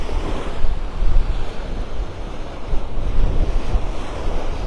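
Ocean surf washing onto a beach at Delnor-Wiggins in North Naples, Florida, on an early morning, a continuous rushing roar mixed with heavy wind buffeting the microphone.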